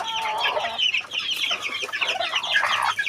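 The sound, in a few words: hen clucking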